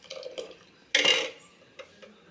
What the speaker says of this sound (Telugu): ఒకసారి మూత తెరిచి కలుపుకోవాలి